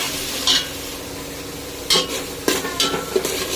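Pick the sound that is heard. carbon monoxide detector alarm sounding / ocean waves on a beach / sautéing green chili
sautéing green chili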